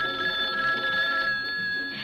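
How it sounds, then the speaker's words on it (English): A kitchen telephone rings with a bright, continuous electronic bell tone that sustains close and fairly loud, then cuts off near the end over a quiet background. "a kitchen phone at hand when friends call up to chat a bit"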